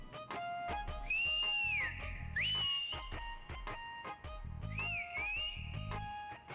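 A person whistles a sliding, high melody in several long phrases over a rhythmic musical backing, loud and close, with no speech.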